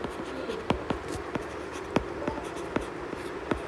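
Pen scratching out maths working on paper, a series of short sharp strokes and taps spaced irregularly over a soft steady background, close and fairly quiet, with no voices.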